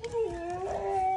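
An American Bully puppy gives a single drawn-out howl, a steady wavering tone that stays close and clear for about a second, with no talking.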